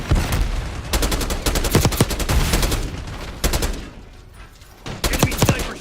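Bursts of gunfire from a team deathmatch video game: clusters of sharp, loud shots in rapid volleys, broken by brief pauses and a quieter stretch before a final burst.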